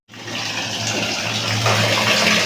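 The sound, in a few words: water refilling a cleaned water tank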